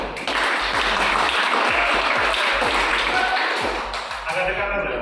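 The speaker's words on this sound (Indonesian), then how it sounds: "Aplaus dulu." Loud, continuous applause and clapping from a classroom audience at a student debate on extending a presidential term, sustained for several seconds and fading slightly near the end.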